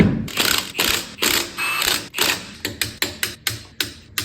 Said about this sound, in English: we'll torque them down and see how well this parking brake holds